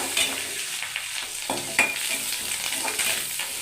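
Curry leaves and onions frying in oil for a tamarind brinjal curry, a close sizzle broken by a few stirring scrapes and clinks of the spoon against the pan, with no one talking.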